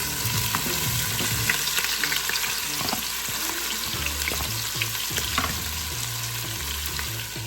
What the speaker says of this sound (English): now I'm adding my onions and garlic in